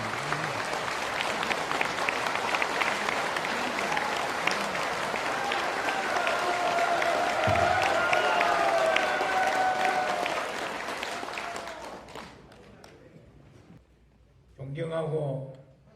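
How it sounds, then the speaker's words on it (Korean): Standing audience at a Vietnam War veterans' rally and lecture gives sustained, loud clapping to welcome a retired army general to the stage, fading out near the end before a brief spoken voice. "기립하셔서 박수로 환영을 해주십시오"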